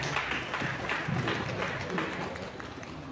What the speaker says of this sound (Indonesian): Mari kita beri tepuk tangan yang meriah untuk semua tim.